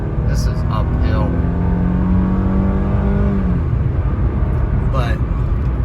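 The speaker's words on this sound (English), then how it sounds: "Let's do an acceleration. This is uphill." A 2000 Mercedes-Benz CLK320 Cabriolet accelerates uphill, its engine note climbing steadily in pitch, dropping at an upshift, then pulling again. Loud and close, with road and wind noise throughout.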